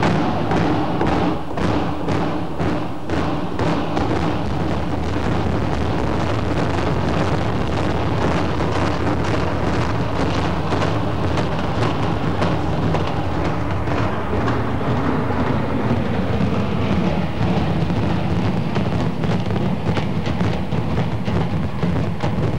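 Fulton County Stadium implosion as 140 million pounds of concrete collapses: a continuous, loud, dense rumbling roar with rapid clattering thuds, like folding bleachers, mixed with wind noise on the microphone throughout.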